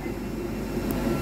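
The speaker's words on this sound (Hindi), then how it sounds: "आप आवाज़ सुन पा रहे होंगे चार्जिंग की" Electric charger of a Piaggio FX cargo three-wheeler hums steadily while the vehicle charges, a constant close low drone with no talk.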